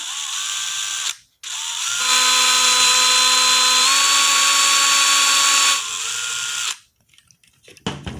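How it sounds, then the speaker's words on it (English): A power drill whines steadily, dropping in pitch under load as it bores across a cab hinge part of an RC Tamiya Globe Liner truck, then spins down; short bursts of drilling come before and after. "try to drill it across, okay, carefully"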